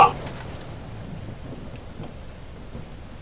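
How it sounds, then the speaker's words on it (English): Rain falls steadily in the open-world racing game Forza Horizon 5, a soft even hiss that follows a brief louder hit at the start. "Yeah, it's raining."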